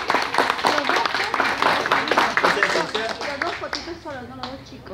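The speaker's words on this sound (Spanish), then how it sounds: "Den un aplauso para los chicos, para los nuevos integrantes." Clapping from a crowd at a youth sports awards ceremony for new child team members, a burst of lively applause that fades out toward the end.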